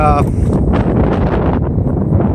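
Wind buffets the microphone while cycle touring along the Cowboy Trail, a loud continuous roar and rumble that stays steady for a couple of seconds.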